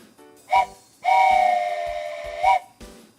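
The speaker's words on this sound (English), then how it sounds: "Let's get a train whistle on the go, shall we?" A steam-style train whistle from the railway simulation game OpenTTD sounds several times: short toots followed by one long sustained blast and another brief toot, clear and loud with no talking.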